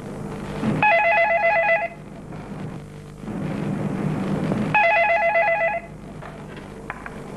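A telephone rings in two bursts, each a bright trilled electronic ring lasting about a second, separated by a pause and set over a steady background hum.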